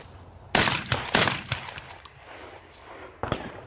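Beretta A300 Ultima semi-automatic shotgun firing heavy steel shells at an outdoor range, with several loud, sharp reports in quick succession and a final shot after a pause, each followed by a short echo.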